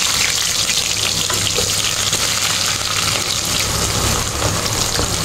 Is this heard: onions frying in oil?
yes